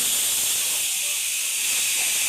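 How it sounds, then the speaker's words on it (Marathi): A pressure cooker with mutton inside lets off steam in a loud, continuous hiss that runs close and unbroken for the whole moment. "आता मटणाची पूर्णपणे वाफ गेली आहे"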